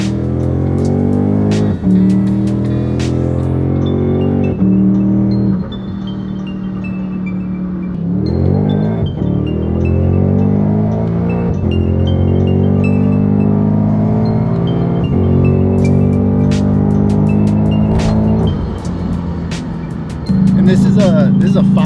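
Loud, steady drone of a supercharged 5-liter V8 in a 714 hp Lexus RC F while driving, its pitch rising and falling through gear changes, with occasional talk inside the cabin over the engine.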